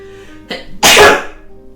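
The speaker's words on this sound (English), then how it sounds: "Also, I had to sneeze." A single loud sneeze with a short sharp intake of breath just before it, close by, followed by quiet.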